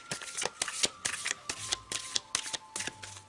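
A deck of Triade oracle cards is shuffled by hand, producing a quick, close series of crisp flicking riffles and soft slaps in an irregular rhythm, with no speech.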